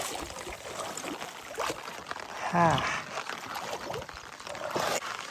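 Floodwater rushes through a drain beside paddy fields after 24 hours of heavy rain, making a steady, moderately loud gurgling flow; a voice briefly says one word over it.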